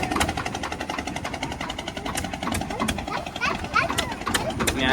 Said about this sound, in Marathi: आमची पण बोट चालू केलंय